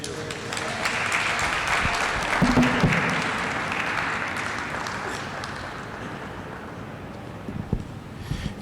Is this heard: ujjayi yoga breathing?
no